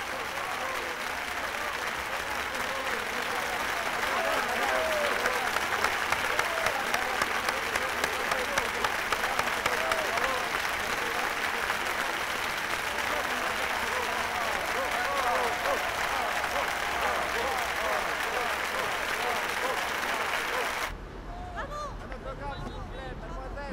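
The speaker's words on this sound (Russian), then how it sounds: "Эти овации принадлежат моим артистам" A theatre audience gives a long, thunderous ovation with dense, continuous clapping and crowd murmur. Near the end the applause drops abruptly to a quieter, muffled level.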